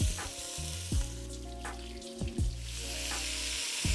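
Beef sizzles loudly in a hot pan, a constant crackling hiss with occasional low thumps and scrapes as it is moved around.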